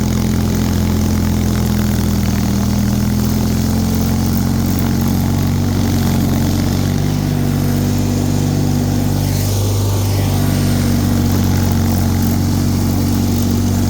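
The engine of a Bolens HT23 snow blower labors loudly and continuously while churning through deep, heavy, melting snow, its low droning note straining and bogging under load, close up with no talking.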